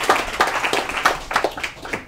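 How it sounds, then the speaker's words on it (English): Crowd applause with dense, continuous clapping from many hands, fairly loud and sustained, fading slightly toward the end. "So give them a round of applause."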